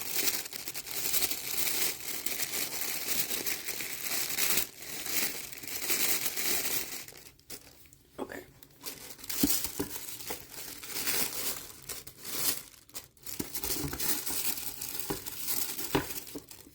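The packaging of a cozy mystery stationery box is untied and opened by hand, with continuous close crinkling and rustling of paper and wrapping and a few brief pauses.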